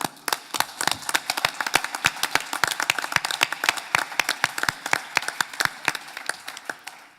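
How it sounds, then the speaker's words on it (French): Scattered applause from an audience at a bar association general assembly, with individual claps standing out sharply in an uneven rhythm that thins toward the end. "Donc je vous demande d'applaudir ces barreaux."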